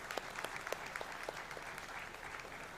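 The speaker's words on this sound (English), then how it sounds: "let us give them a big hand of applause" Graduation audience at the Indian Institute of Information Technology Nagpur convocation applauding degree recipients, a steady, fairly faint wash of many hands clapping that holds for the whole stretch.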